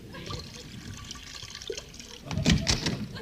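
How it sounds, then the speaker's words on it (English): Cognac is poured into a small dish in an old radio comedy scene, a soft liquid trickle that swells into a brief splashy gush near the end over faint room noise. "I'll pour a little into your dish."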